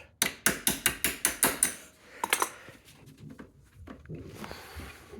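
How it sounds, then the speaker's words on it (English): A tool taps on a CV axle part of a Suzuki King Quad ATV: about eight sharp, evenly spaced metallic knocks up close, then a couple of softer clinks and faint handling noise. "Give it a little tap."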